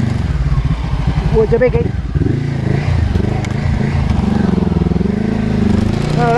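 A Honda CB500X motorcycle ridden off road in Thailand, its engine droning and revving steadily up close with scraping and clatter from the rough ground, while a rider talks over it.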